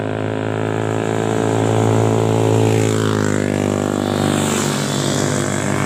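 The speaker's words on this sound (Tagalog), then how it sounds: "naay agi nga mga motor" Motorcycles pass along a rainy mountain road in Miarayon, Talakag, Bukidnon: a loud, droning engine hum that rises in pitch as the bikes draw near, then falls away as they go past, with no talk.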